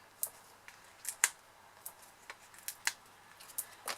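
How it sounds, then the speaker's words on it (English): Scissors snip paper for a handmade card: about ten crisp, quiet cuts in an uneven rhythm, close by, with no talking. "I do just tend to use my scissors for little things like this"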